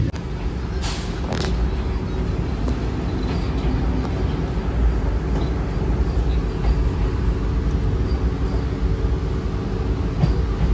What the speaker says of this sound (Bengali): এখন আমাদের ট্রেন ঢুকছে বোলপুর শান্তিনিকেতন স্টেশনের